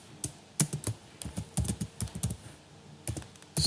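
Typing a heading on a computer keyboard: irregular bursts of close, crisp key clicks with short pauses between, no voices.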